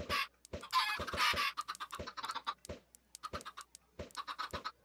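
A crowd of Minecraft chickens clucks in rapid, uneven bursts alongside scratchy clattering noise, the calls near and frequent across the whole stretch without any voices.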